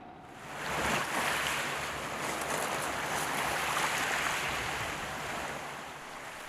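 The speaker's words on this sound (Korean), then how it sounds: "가슴까지 시원해지는 파도 소리가 괜시리 설레게 만드는 이곳" Ocean waves wash onto the shore in a continuous rushing surge, loud and broad, with wind noise over the microphone and no voices.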